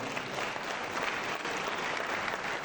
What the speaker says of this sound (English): round of applause to CEO